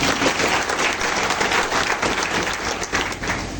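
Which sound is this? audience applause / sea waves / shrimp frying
audience applause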